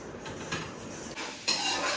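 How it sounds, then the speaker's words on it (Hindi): Moong dal tadka cooking in a pot in a village kitchen, with garlic and spices going into the tempering: soft frying sizzle with light stirring and metal scrapes, quiet and close, no talk. "अच्छा जी, अभी बन रहा है जी दाल का तड़का"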